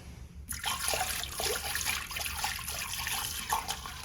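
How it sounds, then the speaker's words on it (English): Antifreeze is poured from a jug into a household sink drain trap while winterizing home plumbing, starting abruptly as a close, gurgling splash and trickle that continues steadily without speech. "Next, pour some down here so we have it sitting in the trap."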